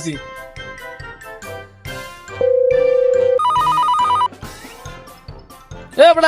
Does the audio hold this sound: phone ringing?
yes